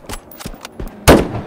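Gunfire from another player in a video game, heard as a few soft distant shots followed by one loud, sharp close blast near the end.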